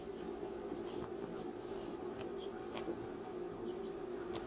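Chalk or marker scratches across a classroom board in short strokes as a maths question on triangle area is written out, faint and close over a steady hum of room noise, with no talking.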